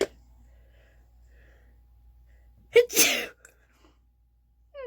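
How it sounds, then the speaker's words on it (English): A single sharp sneeze bursts out after a quick intake of breath, close to the mic, in an otherwise quiet room. "And I'm gonna start sneezing."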